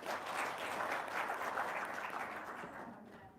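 Brief burst of audience applause from a gathered crowd, a dense wash of clapping that swells quickly and fades over a few seconds, moderately distant.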